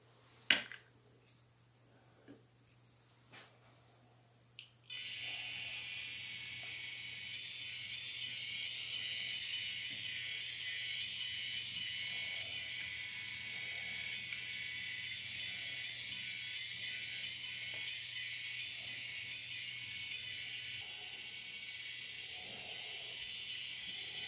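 Eliobot educational robot running in line-follower mode, giving a few faint clicks and taps before a steady broadband motor whir starts and carries on evenly to the end, close and continuous with no talk.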